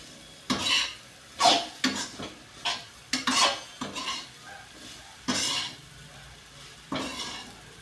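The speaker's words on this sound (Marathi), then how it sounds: "2-3 मिनिट फ्राय चांगला करायचा आहे त्याला" Leftover chapati bhaji with onion and curd frying in a pan, with repeated metal spatula scrapes and clanks against the pan in an uneven rhythm over a low sizzle, close and loud, no talk.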